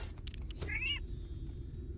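A single short meow from a cat in the video game Moonlight Peaks rises briefly over a low background hum, with faint clicks around it.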